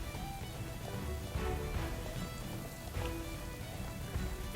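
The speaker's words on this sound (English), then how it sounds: "Oh, now it's raining." Rain falls in a video game, a soft and steady patter that stays faint and even throughout, with no talking.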